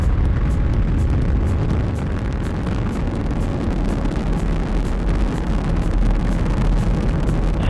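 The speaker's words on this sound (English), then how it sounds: "Ignition and liftoff." SpaceX Crew-2 rocket, the Crew Dragon Endeavour, lifting off after ignition, a continuous, loud, broadband roar with crackling texture that stays steady throughout with no voices.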